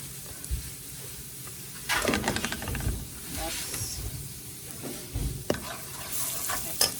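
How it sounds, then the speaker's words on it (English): Garlic and curry powder fry in a hot pan for a curried goat meal, a soft steady sizzle and hiss with a few louder bursts and clatters partway through. "I think my garlic is getting a little too brown there, but put in some curry powder, let that fry up."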